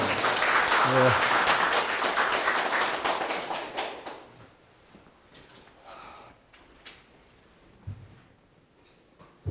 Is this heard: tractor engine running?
no